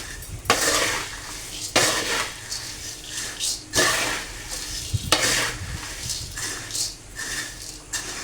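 Spiced puffed rice (bhadang) is stirred in a pan at close range. A spoon makes repeated dry scraping, rustling strokes in a steady rhythm, about one every second or so, with a faint sizzle underneath.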